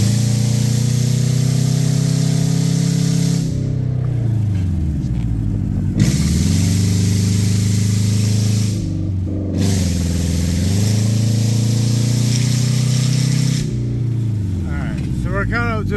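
A Subaru engine with a misfire runs as a loud, steady droning rumble, sagging and stumbling at upper rpm around three points before picking back up, close and continuous throughout.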